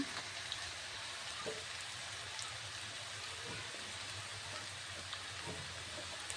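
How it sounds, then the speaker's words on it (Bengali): Chire pulao ingredients frying in a pan, a steady soft crackling sizzle with scattered tiny pops, fairly quiet and continuous with no voices. "ভালো করে এগুলো আমি একটু ভেজে নেব"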